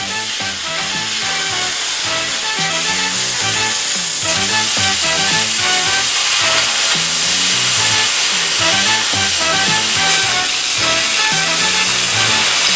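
A Mini Mantis II torch cuts through a thick steel beam with a loud, continuous roaring hiss and crackle, steady throughout and close, with no talk.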